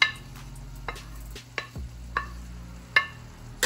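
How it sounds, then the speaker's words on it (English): Teriyaki beef and vegetables are stirred together in a pan as scattered scraping clicks of a utensil against the pan over a faint low sizzle, with no talking. "I'm gonna put this back in the pan so I can mix everything together"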